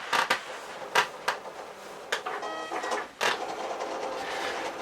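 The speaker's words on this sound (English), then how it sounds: "I'm just going to click that on the machine and see if it cut." Cricut cutting machine slicing out a heart design, with whirring carriage movement and sharp mechanical clicks and knocks at irregular intervals, close and moderately loud, no talking.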